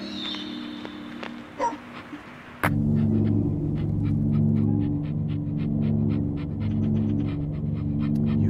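A dog in an itch.io horror video game panting rapidly and rhythmically at close range, starting abruptly after a quiet stretch with faint ambient sounds and then continuing steadily to the end.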